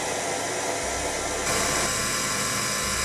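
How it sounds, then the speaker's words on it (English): A metal lathe turns the outer diameter of a part at around 1800 RPM with a large radius insert, giving a loud continuous hissing cutting noise that grows brighter and harsher partway through. "I used a large radius insert and ran the lathe RPM as fast as possible"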